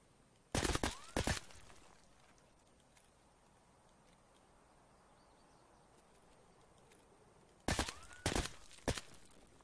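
Full-auto gunfire in the Escape from Tarkov video game, two loud rapid bursts at the start and two more near the end, with a quiet rustling stretch between them.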